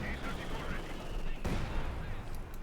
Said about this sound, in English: A mortar firing down there.